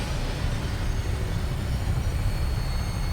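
A Vertibird aircraft in Fallout 4 lifts off with a steady, loud low-pitched engine rumble and broadband roar that holds constant and close throughout, with no voices.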